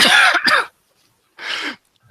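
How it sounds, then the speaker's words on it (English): A person coughs twice, close and loud: a harsh, throaty double burst, then a pause and a second shorter cough. "Was that a strategic cough there"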